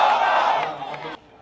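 A church congregation roars in a dense burst of shouting and cheering, loud and sustained with voices mixed in, then cuts off abruptly near the end.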